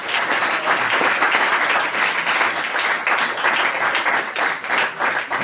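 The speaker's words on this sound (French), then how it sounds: "qu'on peut applaudir aussi" Audience at a fan convention salon applauding a voice actor, dense and loud continuous clapping that holds steady throughout, close and full.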